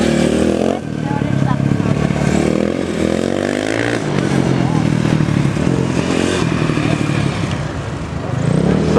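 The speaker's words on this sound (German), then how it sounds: "So, jetzt läuft auch dieses Motorrad." Several motorcycles at a G-Cup race in Mattighofen fire up and pull away from the start, engines revving loudly and continuously up close while a commentator talks over them.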